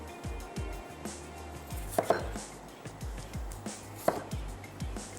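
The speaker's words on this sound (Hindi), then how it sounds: "एक आलू के अगर छोटे या दरमियाने साइज़ का है तो 2 टुकड़े कर लीजिए" A knife chops potatoes into pieces on a board in a home kitchen, with close, rhythmic thuds repeating steadily and a few sharper clacks, no talking.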